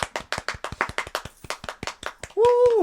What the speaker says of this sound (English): Can you edit in people clapping?